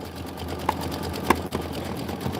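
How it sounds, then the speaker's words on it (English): A sewing machine stitches fabric with a steady, close whir and a few sharp clicks, running on alone. "I'm just gonna let this go while this is stitching"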